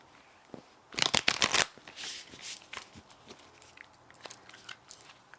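Starseed Oracle Deck cards being shuffled close by: a loud burst of rapid riffling flutters, then softer scattered card taps and rustles, with no talking.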